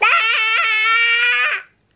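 A child lets out a loud, sustained high-pitched yell lasting about a second and a half, close by, before it cuts off into silence.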